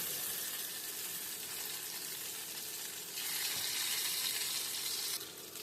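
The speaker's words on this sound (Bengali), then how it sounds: "পিসগুলোকে মাছে খুব ভালো করে উল্টে পাল্টে লাল করে ভেজে নেব।" Fish pieces for restaurant-style chilli fish fry in a pan with a steady, dense sizzle that holds throughout and swells slightly louder toward the end.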